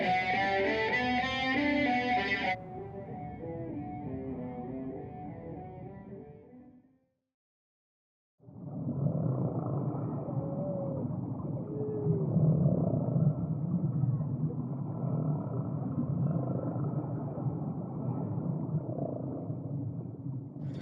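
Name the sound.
cello played with heavy distortion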